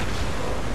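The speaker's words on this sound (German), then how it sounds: "Und jetzt knallt er wieder irgendwo gegen." A heavy, booming crash from the video game Shadow of the Colossus as a colossus slams into a rock wall, a dense, loud, continuous rumble filling the whole moment.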